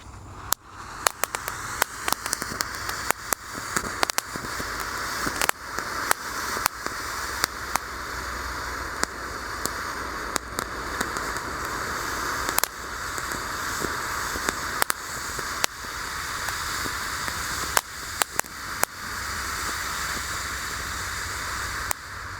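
A long-burning fountain firework hisses and sputters continuously once lit, a steady spraying crackle punctuated by frequent sharp pops and snaps, outdoors with no voices.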